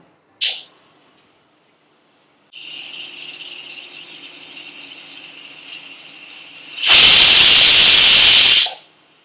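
A pressure cooker cooking biryani lets out a short hiss, then a long steady whistle that ends in a loud burst of venting steam, all close up with no speech.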